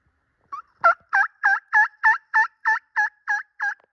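A rapid series of about ten quick, even gobbling notes from at least two wild turkey toms in pines in Wisconsin, clear and fairly close against a quiet background.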